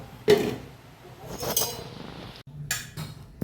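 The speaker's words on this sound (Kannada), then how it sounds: "ಸೊ ಈಗ ಮುಚ್ಚಳವನ್ನು ಮುಚ್ಚಿ ಒಂದು ಕುದಿಯಲು ಬಿಡೋಣ" A metal lid clinks down onto a pot of Mangalore-style pomfret fish gravy, with a sharp clatter near the start followed by softer knocks and a few light clinks, close and fairly loud.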